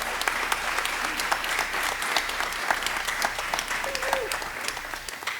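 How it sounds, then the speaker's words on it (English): An audience at a community choir concert applauds the accompanists, a lively burst of close, sharp hand claps layered over a fuller crowd wash, steady and loud throughout, with a brief voice or cheer rising in the middle. "So I want you to give them an applause."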